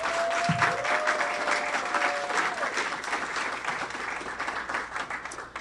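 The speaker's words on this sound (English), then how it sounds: "So let's give her another round of applause." A room full of people gives a sustained round of applause at a Black History Month event held by a health system, dense, even clapping that continues steadily throughout, with a faint tone briefly heard early on.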